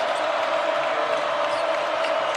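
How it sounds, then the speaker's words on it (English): Steady roar of a basketball arena crowd at an Auburn home game against Texas A&M, urging defense with a constant wash of voices and no distinct breaks. "Crowd imploring some defense here."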